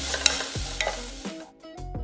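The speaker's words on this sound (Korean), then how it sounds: "달달 볶아서 파 마늘기름 내주고" Scallions and garlic stir-fried in oil in a pot over medium-low heat, a steady close sizzle with a few scraping stirs and clinks from the utensil. No voices.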